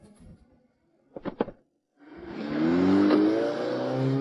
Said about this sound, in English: he opened the car door and drove away.